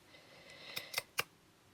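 Scissors snip through a glassine bag from a journal kit, three quick close cuts in a quiet room, the last one the sharpest.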